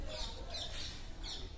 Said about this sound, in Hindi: चिड़िया कितने अच्छे से बोल रही हैं